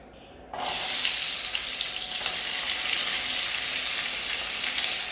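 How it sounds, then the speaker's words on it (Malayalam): Onions drop into hot oil and burst into a sudden loud sizzle that keeps going strongly and steadily after a quiet start, with no talking. "അപ്പോൾ ഇനി അടുത്ത് നമുക്ക് സവാള ഇട്ട് കൊടുക്കാം."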